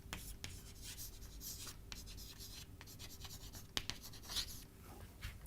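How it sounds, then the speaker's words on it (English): Chalk or pen writing on a board during a lecture, short scratchy strokes in irregular bursts with small taps, faint and close, no speech over it. "So, let me first write it down."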